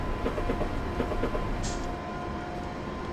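Train running on the UK Faversham to Rochester route in the Train Simulator game, a steady rolling rumble with rhythmic clickety-clack of wheels over rail joints, which eases into a smoother hum partway through.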